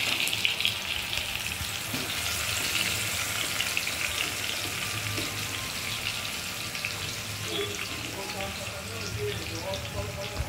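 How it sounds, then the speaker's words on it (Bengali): Marinated chicken fries in hot oil in a wok, producing a continuous crackling sizzle with occasional stirring scrapes while a person talks over it. "এই তেলে চিকেনটা এবার ফ্রাই হবে"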